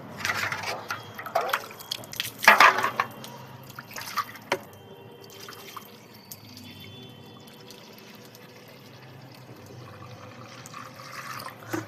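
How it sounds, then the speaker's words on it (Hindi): Water splashes and drips against a metal plate being rinsed, with a few sharp clinks and sloshes early on, then a quieter trickle in a room. "इस थाली को थोड़ा सा खंगाल लेते हैं"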